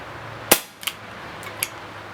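A Baikal MP-655K CO2 pellet gun fires in single action mode, giving one sharp loud crack followed by a few smaller clicks and taps, heard up close with no voices.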